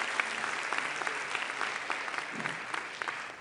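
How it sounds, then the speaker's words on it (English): An audience at a One Health Summit in Lyon applauds the panelists with a steady wash of clapping that holds at an even level throughout. "Please join me in giving them a real great round of applause."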